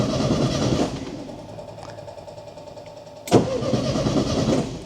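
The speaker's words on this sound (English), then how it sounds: "you can hear the starter does run" Volkswagen Super Beetle starter motor cranking, a steady mid-pitched whirring drone that cuts out briefly and then resumes, close and fairly loud, with no voices.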